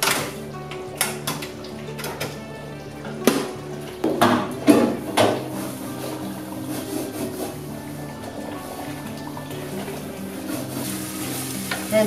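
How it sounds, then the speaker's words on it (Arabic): Chicken fries in a hot pot, sizzling steadily beneath irregular knocks and scrapes of stirring and a utensil against the pot, with a few louder clatters partway through. "دابا غادي ندخل الدجاج، هادشي راه سخون"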